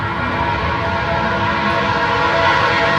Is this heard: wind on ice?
no